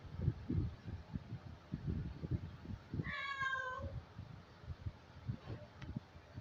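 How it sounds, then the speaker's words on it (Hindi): A house cat meows once in a short series of rising and falling cries, clear above steady low rumbling background noise indoors. "बिल्ली आई हुई है"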